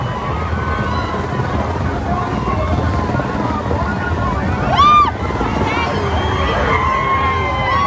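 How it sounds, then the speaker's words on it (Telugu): A helicopter showers flowers over a minister at a political gathering, its rotor chop blending into a loud crowd hubbub of cheering supporters, with a brief whistle-like tone rising midway. "ఇగో ఇట్లా హెలికాప్టర్లకెళ్ళి కోమటిరెడ్డి మీద పూలవాన కురిపించారు అక్కడ అభిమానులు."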